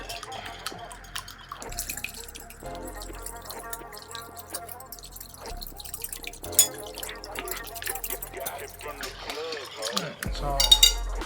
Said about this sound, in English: And whisk it.